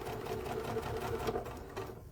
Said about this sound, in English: so we are sewing a 1-inch hem, fold over hem